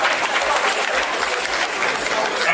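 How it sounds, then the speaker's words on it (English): Applause welcoming a guest at an official commissioning ceremony, a steady, moderately loud wash of hand clapping from a seated audience with faint murmurs underneath. "Let's welcome with the hand of applause Odigie-Oyegun"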